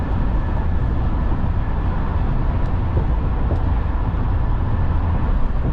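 Steady road and engine rumble inside a 2024 Chevy Silverado 3500 cruising at 75 mph in light highway traffic, a dense, constant low roar with no speech.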